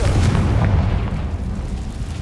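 A loud, close Confringo spell explosion in Hogwarts Legacy booms and rumbles, fading over a couple of seconds.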